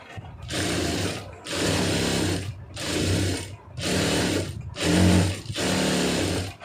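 A sewing machine stitching a blouse lining runs in six bursts of rapid, whirring mechanical clatter, each about a second long, separated by short pauses, loud and close with no talk.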